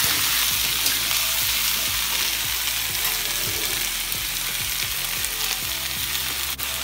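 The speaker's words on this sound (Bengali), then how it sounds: "দিয়ে আর একটু ভাজা ভাজা করে নেবো" Potatoes, eggplant, onion, tomato, garlic, ginger and green chilli frying in a pan, a loud continuous sizzle broken by regular scraping strokes of a spatula stirring the mix.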